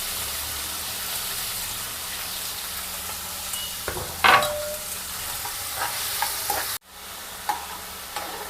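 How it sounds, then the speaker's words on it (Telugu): Tomato, capsicum, onion and green chilli frying in oil for veggie poha, a soft steady sizzle with occasional stirring scrapes and a brief clatter, ending in a short drop before the sizzle resumes. "ఇవన్నీ బాగా ఫ్రై అయ్యి ఆయిల్ పైకి వచ్చేంత వరకు, అంటే మగ్గనివ్వాలి బాగా"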